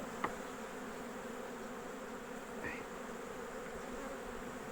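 Bees buzz steadily around an open beehive, a continuous droning hum close by and moderately quiet, with a faint click near the start.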